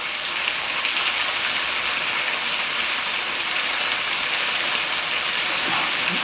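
Prawns sizzle on a Samoan-style grill, a loud, dense, steady crackling hiss that runs unbroken throughout with no voices over it.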